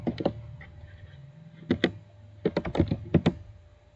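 Typing on a computer keyboard while entering a network name: close, crisp key clicks in short irregular bursts separated by pauses, with no talking.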